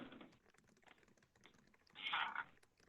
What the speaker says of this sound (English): I'm just going to finish typing the prompt here.